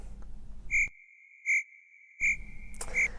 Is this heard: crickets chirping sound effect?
yes